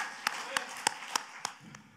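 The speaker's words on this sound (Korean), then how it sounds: "박수로" A congregation claps during a Korean church service, six sharp, evenly spaced claps sounding in a steady rhythm at moderate volume.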